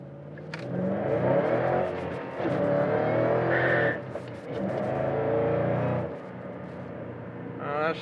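A 2011 Ford Shelby GT500 accelerates hard through the gears, its loud engine rising in pitch in surges broken by brief shift pauses, heard from inside the car.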